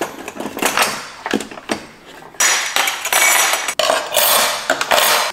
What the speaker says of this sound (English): I'll probably put all the knives over here and then put the other spoons and forks over here.